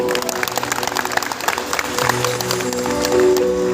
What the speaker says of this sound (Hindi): हो मामा वास्ते तालियां।